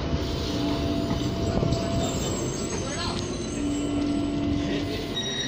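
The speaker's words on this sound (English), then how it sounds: "4074 and 4073 are leaving for St James via Newcastle and the coast." Two Tyne and Wear Metro trains, units 4074 and 4073, pulling away for St James via Newcastle and the coast, with a steady rumble, faint rail squeals and a voice over the noise.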